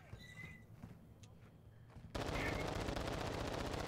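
Call of Duty DMZ gunfire, quiet at first with a few scattered shots, then a sudden loud stretch of rapid automatic fire that continues to the end.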